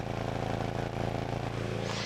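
A Hyundai Santa Fe gasoline model's exhaust gives a steady, low rumble with a deep pulsing drone, continuous and fairly close, with faint talk mixed in.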